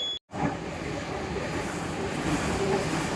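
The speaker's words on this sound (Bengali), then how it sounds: "এই ট্রেন এখানে দোতলা ট্রেন, এটা ফার্স্ট ট্রেন, বেরিয়ে চলে গেল, দাঁড়ালো না এই স্টেশনে।" A double-decker train runs through a station without stopping, giving a steady, loud rumble and rattle that holds evenly for about three seconds after a short gap.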